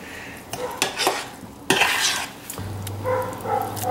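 Champorado chocolate rice porridge is stirred in a pot, a spoon scraping and knocking through the thick mixture in uneven strokes, with a few louder clanks and a low steady hum near the end, up close and without talk.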